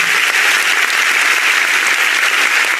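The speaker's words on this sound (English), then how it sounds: "A round of applause, ladies and gentlemen" Loud, dense applause from a large audience at a youth dialogue event, a continuous roar of clapping that stays even throughout with no speech.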